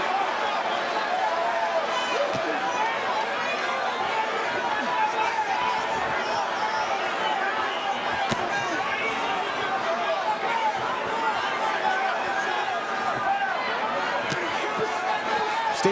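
A boxing arena crowd keeps up a steady roar and murmur during a fight, with commentators talking over the constant hubbub.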